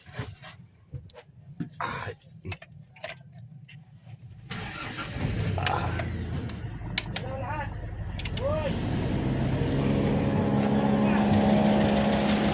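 An ambulance engine is cranked and catches, then settles into a steady idle that grows louder. Quiet, irregular knocks and handling sounds come before the start.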